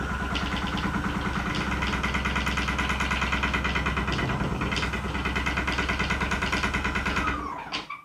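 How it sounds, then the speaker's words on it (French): An unbalanced one-blade fan's motor hums with a fast, rhythmic rattling vibration that stays loud and steady, then winds down and stops near the end. "Là, ça vibre vraiment beaucoup"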